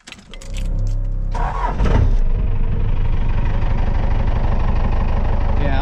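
A truck engine cranks briefly and catches, then settles into a steady, loud, rumbling idle close by, with a faint knocking texture under the running note.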